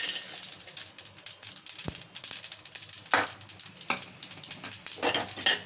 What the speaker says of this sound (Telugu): స్టవ్ మీద బౌల్ పెట్టుకొని డ్రై రోస్ట్ చేసుకోవాలండి కొబ్బరి ముక్కలు నువ్వులు